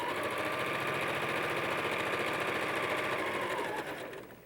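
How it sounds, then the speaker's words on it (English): A sewing machine stitches quilt fabric pieces continuously, its rapid rhythmic stitching hum steady and close, then slowing and fading at the very end. "We'll put them under the sewing machine foot and stitch."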